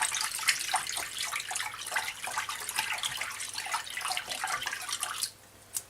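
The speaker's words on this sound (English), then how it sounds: "Stir it around a bit." Water stirred with a little washing powder to clean saw blades, a steady close sloshing and swirling wash that runs continuously, then cuts off near the end with a brief final splash.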